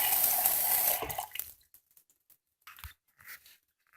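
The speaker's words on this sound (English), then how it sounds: "now this thing drains like a champ. Draining much faster than it was yesterday." A plunged bathroom sink drains fast, giving a loud, steady gurgling rush of water for about a second before it cuts off, followed by a few faint drips and small knocks in near-quiet.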